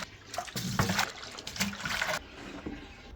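Water gushes and splashes into small kiddie dog pools outdoors, coming as faint uneven surges of flow.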